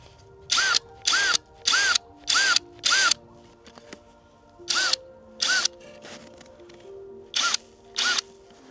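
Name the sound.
screwdriver driving screws into hot tent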